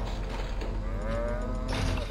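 A drawn-out, low moo from a cow in the LEGO Jurassic World video game, heard alone over a steady mechanical hum and creaking game backdrop.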